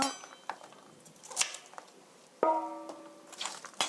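A knife chops young radish on a cutting board in a few sharp, separate knocks, close and fairly quiet, with a brief ringing clink partway through.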